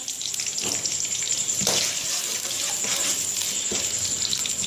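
Steady sizzling of finely chopped onion frying in hot oil until golden, close up, with a bright hiss and occasional bursts of crackling.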